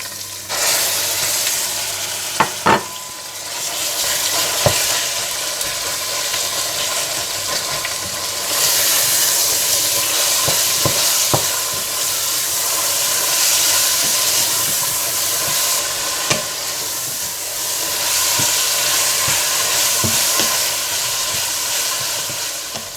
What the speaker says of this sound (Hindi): पिसा हुआ अदरक लहसुन और कीमा डालकर अच्छी तरह से भून लें।